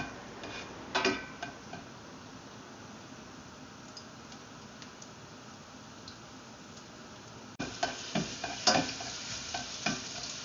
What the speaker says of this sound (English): Now the oil is hot, saute of the garlic.